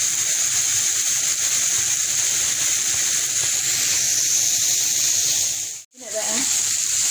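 Lamb ribs sear in a hot pan or on a grill, giving a steady, loud, bright sizzle that runs unbroken, dips briefly for a moment, then resumes.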